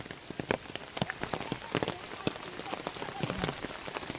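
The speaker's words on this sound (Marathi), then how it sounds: "जोरात जोरात पाऊस पडला आहे" Torrential monsoon rain in rural Konkan patters and splashes close by, with many distinct heavy drops striking surfaces in an irregular, busy rhythm.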